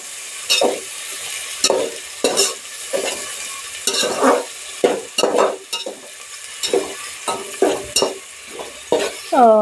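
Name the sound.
stirring and roasting mixed vegetables in a pan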